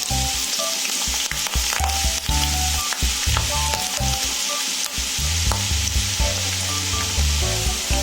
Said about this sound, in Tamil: இப்போ நம்ம பக்கோடா போட்டுக்கலாம்